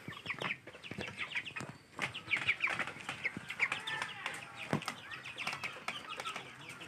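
Broiler chickens on a poultry farm in Gopalganj, Bangladesh cluck and squawk continuously, many birds at moderate distance with overlapping calls and occasional wing flaps.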